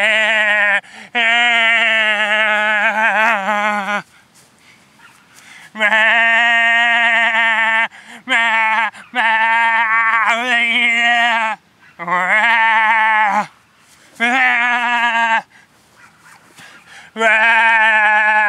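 A man imitates a sheep with long, loud, quavering bleats. He repeats them in bursts of a second or more, separated by brief pauses and a few shorter cries.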